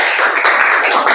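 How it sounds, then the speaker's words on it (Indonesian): A classroom of students clapping their hands together, a dense, loud burst of applause that holds steady for about a second. "Tepuk tangan dulu."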